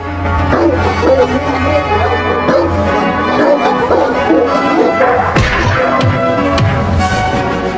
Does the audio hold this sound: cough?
no